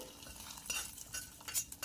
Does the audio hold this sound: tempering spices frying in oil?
yes